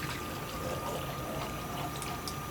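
Hot water, around 1,000 mL, poured into a container to make a water bath for anodizing aluminum: a continuous, steady rush of liquid, close and even throughout, with no talking.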